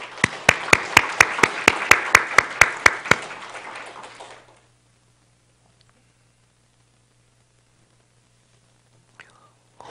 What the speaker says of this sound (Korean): 우리 주님 앞에 영광의 박수 한번